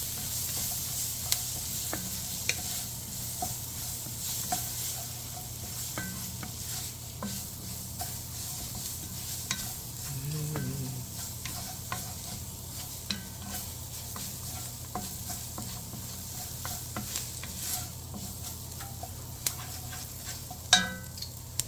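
Garlic and dry seasoning fry in oil in a pan for a turkey curry kofta, with a steady hiss running throughout. Scattered clicks and scrapes from stirring come and go, and there is no talking.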